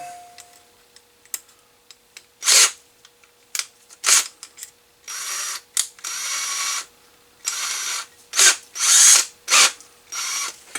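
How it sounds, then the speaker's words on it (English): Electric drill driving a 6x32 tap into metal during a Motorola XM-501 monitor repair: repeated short bursts of whirring, some brief and some held for about a second, close by, with quiet gaps and no talking. "I have it in my drill,"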